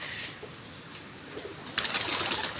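Pigeons coo softly in a loft over a steady hiss of background noise, with a brighter rustle near the end that sounds like wing flapping.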